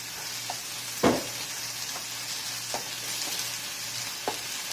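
Spinach and green chili paste fry in a pan with onions and ginger garlic paste, giving a steady close sizzle broken by a few stirring scrapes, with no talk.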